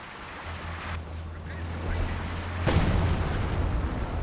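Artillery barrage in Company of Heroes 2: a low rumbling hum, then a heavy booming impact that swells into a sustained roar of distant shelling, mixed with battlefield ambience.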